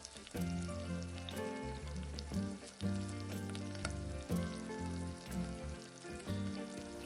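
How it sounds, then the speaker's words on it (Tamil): Masala spices frying in oil for an okra and onion curry, a soft, continuous crackling sizzle heard fairly quietly beneath background music. "இந்த மசாலாவை கொஞ்சம் வறுத்துக்கோங்க"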